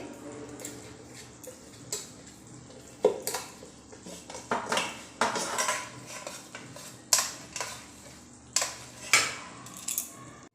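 Ghee being spread across the underside of a metal thali, heard as a string of light metallic scrapes, taps and clinks at irregular intervals, close and fairly quiet, with no talking.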